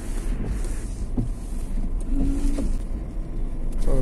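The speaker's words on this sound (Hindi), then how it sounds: "वाइपर एक बार चला लेते हैं." Maruti Brezza windshield wipers running, several faint swishing sweeps under a constant loud cabin rumble, with a short motor whine partway through.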